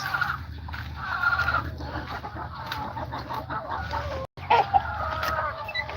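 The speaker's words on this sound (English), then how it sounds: "Looks like my native chickens are hungry, waiting for me to get them something to eat." Hungry native chickens cluck and murmur close by on a farm over a steady low rumble of background noise, with brief louder calls breaking through near the end.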